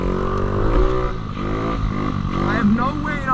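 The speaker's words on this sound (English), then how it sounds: "Rev it up." A 50cc motorcycle engine revs up and down in short bursts close by, with a person talking over the engine noise throughout.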